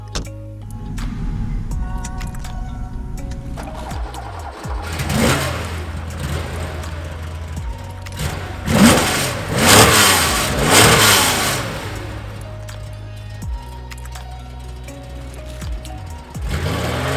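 A 1973 Porsche 911 2.7 RS hot rod engine revs loudly and repeatedly, rising in sharp bursts over a steady idle, with the strongest blips in the middle and no talking.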